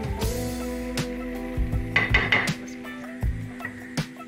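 A finished omelette being slid and scraped from a hot pan into a bowl with the flame off, giving close metallic scrapes and a few clinks of utensil against cookware, with no talk.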